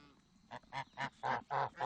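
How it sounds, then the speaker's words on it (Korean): Several geese honk in a rapid series of five or six nasal calls, close by and fairly loud, with no talking. "그리고 얼마 뒤 순식간에 몰려든 거위들."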